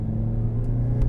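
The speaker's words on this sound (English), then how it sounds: "The engine is noisy." A 2017 Toyota Aqua engine accelerating, giving a steady, loud, close-up rumble with a low droning hum that holds throughout, with no talking.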